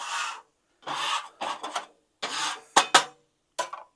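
Repeated rasping scrapes as oil and grease are cleared off a Blackstone griddle with a metal scraper, coming in several short close strokes separated by brief pauses.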